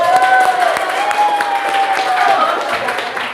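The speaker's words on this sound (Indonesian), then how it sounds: "Tepuk tangan mana Fazli?" A classroom of students claps for a classmate, fairly loud and continuous, with a sustained tone and some voices mixed into the clapping.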